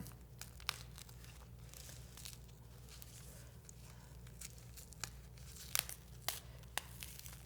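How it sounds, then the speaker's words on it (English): Vinyl peels off a bag with soft, continuous crinkling and tearing, broken by a few louder crackly rips near the end, close but low in level. "I'm gonna peel off the vinyl"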